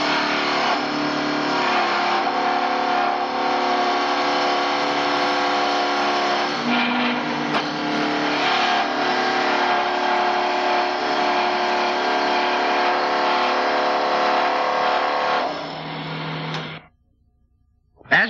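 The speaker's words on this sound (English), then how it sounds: "the pre-cutting knife has rounded off the square stock" An SCM Mini Max woodworking machine turns square wooden stock round with its pre-cutting knife, giving a loud, steady whirring and cutting roar that holds for about sixteen seconds before spinning down to near silence.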